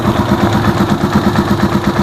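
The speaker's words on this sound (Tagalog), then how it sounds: "tining ng makina oh." A Rusi Chariot 175 motorcycle engine idles close by, its loud, steady, even putter beating in a regular rhythm, with no talk over it.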